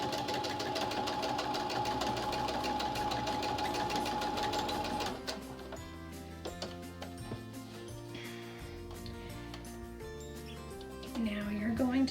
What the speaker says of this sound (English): We're gonna sew until we get almost to our pin.